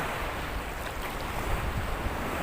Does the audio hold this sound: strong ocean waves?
yes